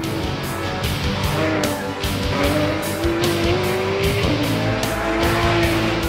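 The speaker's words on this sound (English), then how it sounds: "The way it's moving around, it's sliding, it's reacting to every one of my inputs." Porsche 911 GT3 RS driven hard and sliding around the Nardo test track, its engine howling steadily at high revs with rising and falling pitch, tires squealing beneath a loud, continuous roar, no talking.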